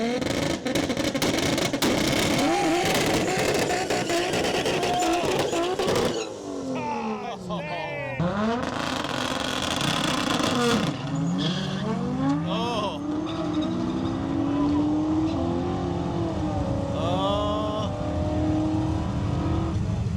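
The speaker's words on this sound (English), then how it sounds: "big old turbo Supra" A big turbocharged Toyota Supra revs hard at a car cruise event, loud rising and falling engine sweeps with gear changes over a noisy crowd, and people talk throughout.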